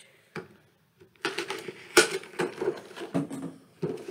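Cardboard and plastic packaging of a DC Icons Lex Luthor action figure is pried open and taped seams are torn, giving close, irregular crinkles, rips and snaps after a brief quiet start.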